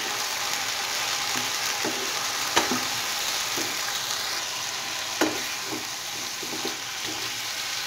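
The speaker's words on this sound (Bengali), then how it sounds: "এইবারে যতক্ষণ না কাঁচা গন্ধ যাচ্ছে ততক্ষণ পর্যন্ত লো হিটে রেখে আমি মশলাটা কষিয়ে নেব।" Masala of ground cumin, turmeric and salt being fried and stirred over low heat for a raw-banana dish, a steady close sizzle broken by rhythmic spatula scrapes and two sharper knocks against the pan.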